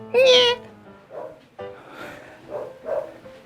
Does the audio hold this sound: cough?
no